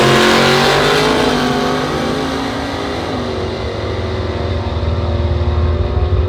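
A supercharged small-block in a 1934 Ford 5-window coupe roars down a drag strip, a loud, dense, sustained engine blast that holds strong throughout with a slight dip midway.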